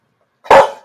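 A single loud, close bark from a dog, sharp and brief, after a moment of silence.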